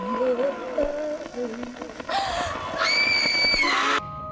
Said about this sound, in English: She turns the light off, turns around, cut to black, and she screams.